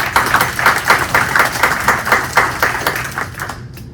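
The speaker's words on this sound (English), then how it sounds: "So I'd like to give Marie a round of applause as well." A small audience at a 2022 budget presentation claps for Marie in a steady patter of separate hand claps, close and fairly loud, before the clapping cuts off abruptly near the end.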